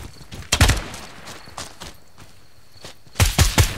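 Gunshots in a tactical close-quarters shooter at night, fired to shoot out lights on the second floor of a small rail station; several loud bursts of a few quick shots each, separated by quieter gaps.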